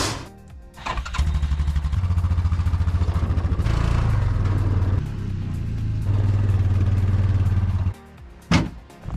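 A side-by-side UTV engine cranks and catches, then idles with a steady, close, throbbing chug that rises and falls in pitch a few times before shutting off, with a clatter at the end.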